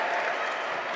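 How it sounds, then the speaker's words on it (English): A women's college basketball rivalry crowd, Calvin against Hope, claps and cheers in a dense, steady roar of applause for a brief moment in the gym. "Listen to this crowd."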